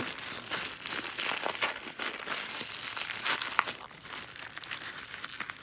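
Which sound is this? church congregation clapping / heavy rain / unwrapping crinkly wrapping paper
unwrapping crinkly wrapping paper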